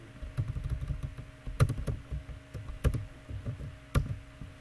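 Typing on a computer keyboard: soft, close key taps in uneven bursts, with a few louder strikes standing out at intervals. There is no talking.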